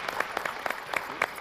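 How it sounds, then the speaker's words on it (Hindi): Audience applause for a judge at a stage event, heard as quiet, sparse clapping with a few scattered claps at a distance. "एक बार जोरदार तालियां मोहनलाल जी के लिए।"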